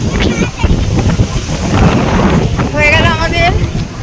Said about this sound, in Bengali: প্রচণ্ড ঢেউ, এই যে পাথরে এসে ধাক্কা দিচ্ছে।